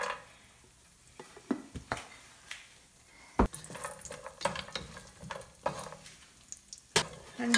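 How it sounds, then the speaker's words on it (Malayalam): Cashew nuts fry in hot ghee in a pan for vermicelli payasam, with a soft sizzle under scattered scraping and clattering stirring strokes, close and moderately loud. "നെയ്യ് ഒഴിച്ച ശേഷം നമുക്കതിലേക്ക് കുറച്ച് അണ്ടിപ്പരിപ്പും മുന്തിരിയും വറുത്തെടുക്കാം."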